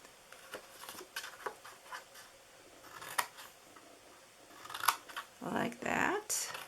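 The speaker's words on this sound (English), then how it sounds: "I'm going to cut a little bit from here, and then I'm going to cut on each side of that score mark" Scissors snipping through a paper St. Patrick's Day treat box, a series of quiet, scattered crisp cuts and rustles, with some paper handling near the end.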